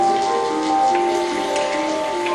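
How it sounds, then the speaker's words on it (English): Rain falling on a hot desert floor, a steady, dense patter that holds at an even level throughout with a faint tonal hum running beneath it. "rain fell. On the hot desert floor,"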